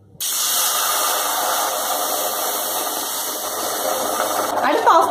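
Water is poured into a hot pressure cooker holding dry-roasted cowpeas that have started to pop, giving a loud, steady hiss and sizzle that begins abruptly and holds for about five seconds, with a brief clatter near the end.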